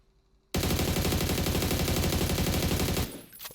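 Sustained automatic fire from an AUG assault rifle in PUBG, shot from a crouching stance: one loud, rapid, continuous burst lasting about two and a half seconds after a quiet start, then cutting off into a brief tail.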